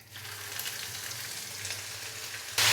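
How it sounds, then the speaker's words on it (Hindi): Ginger garlic paste frying in a pan with half an onion for chana pulao, a steady close sizzle with light stirring, ending in a sudden louder burst of hiss. "अदरक और लहसुन के पेस्ट को हल्का सा फ्राई कर लेंगे"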